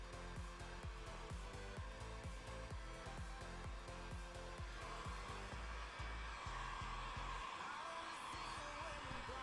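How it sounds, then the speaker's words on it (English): A heat gun blows a loud, steady hiss while car window tint film on a 2020 Nissan Pathfinder is shrunk by hand. The constant roar fills the whole stretch, with faint rhythmic thumps underneath and no clear speech. "Lower it down because that heat gun's obnoxious."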